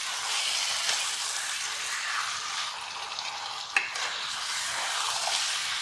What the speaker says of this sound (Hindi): अब इसे हम खोलकर भून लेंगे।